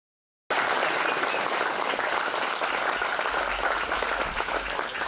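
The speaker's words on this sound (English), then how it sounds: "And one last biggest applause ever" An audience at the Midwest RepRap Festival breaks into loud, sustained applause that starts abruptly and holds steady and dense throughout.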